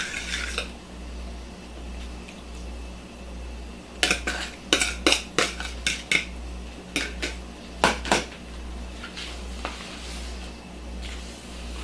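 Wet ingredients being mixed into dry ones for an apple quick bread, with clusters of sharp clinks and scrapes of a utensil against a bowl over a quiet low hum, close and without talk.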